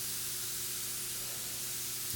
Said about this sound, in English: I'm gonna be spraying the base through my DV1